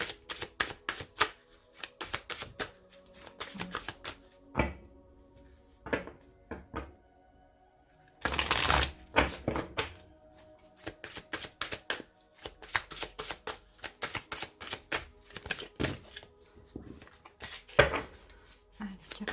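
Tarot cards being shuffled and handled in a series of sharp, crisp flicks and taps, with one longer burst of riffling in the middle, heard up close with no talking.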